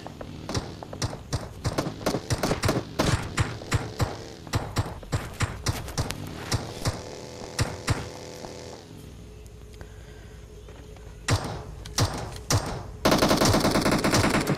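Gunfire in the mobile shooter Battlegrounds Mobile India: dense rapid bursts of automatic fire with sharp single shots, pausing briefly mid-clip before resuming, then a loud sustained noisy burst at the end.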